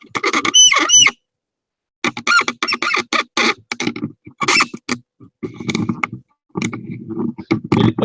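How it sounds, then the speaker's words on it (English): An old tripod creaks and squeaks as it is repositioned, a close series of sharp, irregular squeals and rubbing creaks in bursts separated by brief pauses. "It's an old squeaky tripod."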